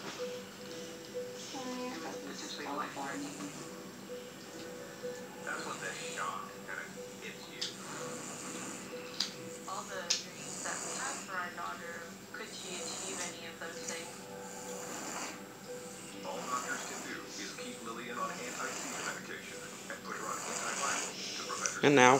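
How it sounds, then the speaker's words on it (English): A sleeping child snores steadily in the background, with soft rhythmic breathing rasps running beneath a nearby adult voice explaining a procedure. "if you hear any snoring in the background, it is the child. He is asleep."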